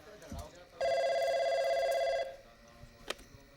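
A telephone rings once in a single loud electronic burst of about a second and a half, with quiet room sound and faint voices around it.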